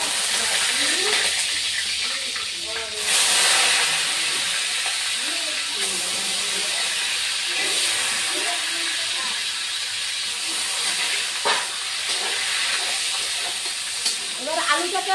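Potato pieces frying briefly in a pan while pabda fish curry is being made, a loud continuous hiss and sizzle with stirring scrapes and clatter, close up; faint sounds of talk occasionally underneath.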